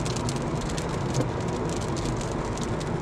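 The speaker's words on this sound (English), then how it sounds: "It was a cloudy Sunday, and some raindrops are falling." Rain patters on a car driving a busy highway on a cloudy day, steady drops tapping over the low rumble of the road and engine, continuous and close.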